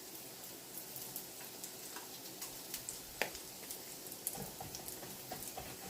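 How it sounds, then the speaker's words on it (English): Spam sizzles and crackles steadily as it fries in a hot pan, with small pops and ticks scattered throughout, quiet and close. "Oh yeah, look at that. Sizzling."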